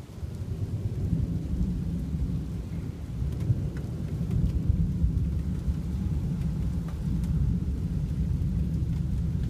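Deep rolling thunder rumbles through heavy rain during a severe July thunderstorm in Newburyport, Massachusetts, heard from a tent outdoors, with steady downpour and occasional sharper drops.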